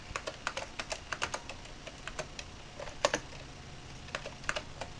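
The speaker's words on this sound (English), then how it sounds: "I'm very bad at typing single-handedly," A computer keyboard is typed on with one hand, producing irregular, close, crisp key clicks in short bursts with small pauses, with no voices.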